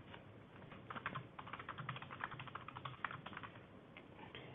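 Quick, uneven typing on a computer keyboard while entering a reason to disable two-factor authentication in a Microsoft 365 account: a close, steady run of light clicks and key taps with no voices.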